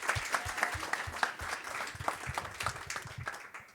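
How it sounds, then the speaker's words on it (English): An audience claps for alumni startup founders at a university venture showcase event, a crowd's scattered applause with distinct individual hand claps audible throughout, fairly quiet and steady before tapering off at the end. "round of applause."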